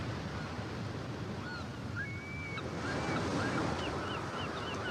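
Ocean waves wash steadily around a sailboat at sea, a broad continuous rush of surf and wind, with faint seabird calls drifting over the top.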